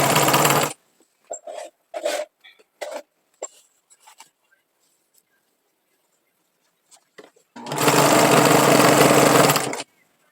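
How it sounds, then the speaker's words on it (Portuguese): A sewing machine stitches a fabric strip onto the base of a patchwork rag rug in two loud, sustained bursts at the start and end, with short intermittent sounds and pauses between. "E eu continuo costurando, mantendo a tira bem alinhada com a lateral da base."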